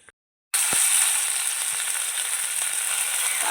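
Sliced onions hit hot oil with panch phoron spices, bursting into a sudden loud sizzle that settles into steady, close frying hiss with faint crackles, no talking.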